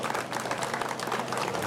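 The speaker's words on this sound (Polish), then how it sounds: "Oklaski, oklaski dla wspaniałych kolarzy." Steady applause from a crowd at a stage finish of the 23rd International Solidarity and Olympians cycling race, honouring the riders, dense and continuous throughout.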